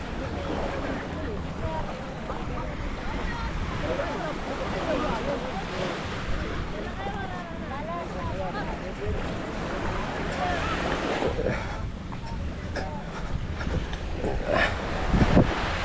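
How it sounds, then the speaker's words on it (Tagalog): A Bantay Dagat patrol boat rides on the open sea amid steady surf and gusting wind buffeting the microphone, with a continuous low rumble and faint voices underneath. "Ayun yung bangka na yun. Ayun yung sa tawag dito, Bantay Dagat."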